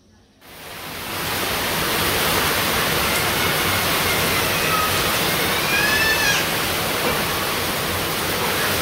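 Rain bursts on suddenly outside a village home after a moment of quiet, becoming a dense, steady hiss that holds at full strength, with a faint thin whistle passing briefly partway through.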